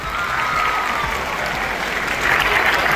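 An audience at a general knowledge competition claps for itself, a loud, even wash of many hands clapping that swells slightly louder near the end.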